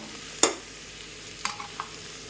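Paneer and cashews are stirred lightly in a pan for a paneer corn pulao, heard as a few quiet, isolated spatula scrapes over a faint low background.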